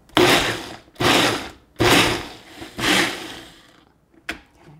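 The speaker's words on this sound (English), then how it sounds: "all I'm gonna do is put this on pulse until everything is well blended." A Ninja blender pulses fat bomb ingredients in four loud, short bursts about a second apart, followed by a brief click, with no talking.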